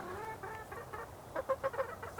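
Backyard chickens clucking around a new waterer, several soft, low clucks and murmurs building to a few louder clucks near the end, close by with a faint background hum and no talk.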